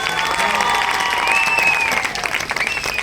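Brief burst of audience applause at a business presentation, dense clapping with a few whoops and cheers rising over it, fairly loud and close.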